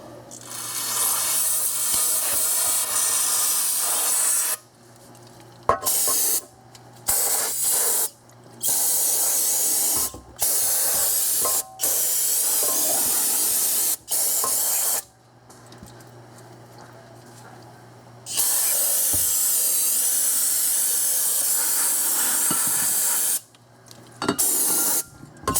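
Brake cleaner is sprayed onto engine parts from a 2001 Infiniti QX4 intake and cooling system in repeated hissing bursts of varied length, separated by short pauses, close and loud.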